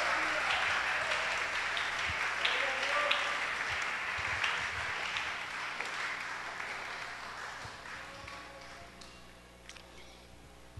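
A church congregation applauds throughout a Spanish-language sermon service, a steady moderate wash of clapping with faint voices mixed in.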